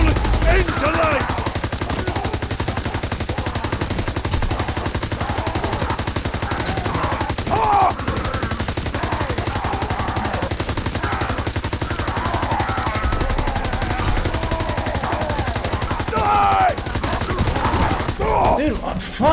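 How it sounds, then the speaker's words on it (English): Repeated gunfire in a zombie video game, rapid bursts of shots rattling almost nonstop for the whole stretch, loud and close, with occasional speech mixed in. "I shoot the thing like 600 times in the face."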